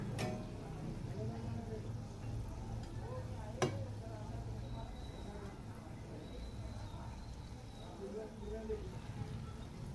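Khoa gulab jamun fry in hot oil, giving a soft, steady sizzle with occasional ticks and a stir or two, as a voice talks over the cooking.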